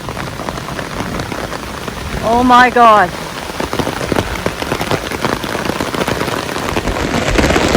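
Heavy thunderstorm rain pounds down hard and continuously around a tent at close range, with a brief exclaiming voice partway through.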